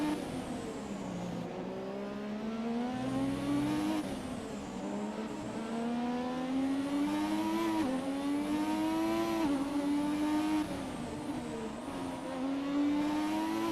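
A late-1980s Formula 1 car in the racing video game F1 2017 on PS4 Pro: a continuous high-pitched engine whine rises through the revs, drops at each gear change, then climbs again, with no talking.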